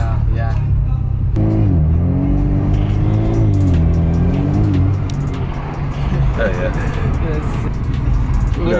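A Cadillac ATS 2.0 turbo fitted with a Mishimoto intake pulls from inside the cabin, its engine drone rising and falling in pitch as it accelerates, while people talk throughout.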